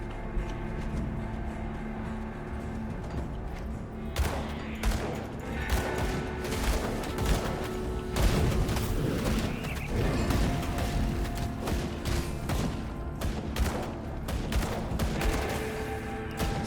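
Rapid bursts of gunfire in the action RPG Grim Dawn crack repeatedly in irregular volleys over a steady background of game sound effects, close and fairly loud throughout, with no talking.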